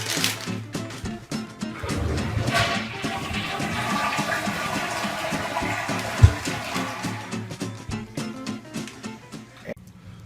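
A household toilet flushes with a close, roaring rush of water that swirls and drains over several seconds, then tapers into gurgling refill, with a sharp clunk partway through.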